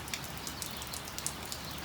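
Rain falls steadily nearby, with a soft continuous patter and scattered sharper drops ticking on a surface, with no voices.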